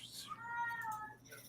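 A single close cat meow, rising and drawn out over about a second, with faint background murmur.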